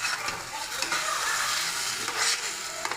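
A spoon stirs a sweet amla mixture cooking with ghee in a pan, with repeated scraping strokes over a continuous soft sizzle, close and alone.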